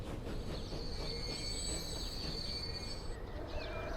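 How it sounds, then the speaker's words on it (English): Train brakes screech in a long, high, steady squeal over the low rumble of rolling rail cars, continuous throughout, in the video game Transport Fever. "I love the screeching brakes."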